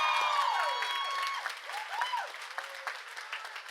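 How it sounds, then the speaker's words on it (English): A commencement audience at SUNY Schenectady claps in a large hall, the applause full at first and then thinning into scattered claps and a few whistles or cheers. "let us give a big round of applause to your professors, advisors, and employees here at the college"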